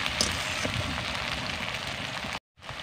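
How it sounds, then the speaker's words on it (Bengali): Garlic and ginger paste sizzles steadily in a hot pan while fish biryani is being cooked, a dense continuous frying hiss that cuts out abruptly near the end. "আদা রসুনটাও ভালো করে ভেজে নেব।"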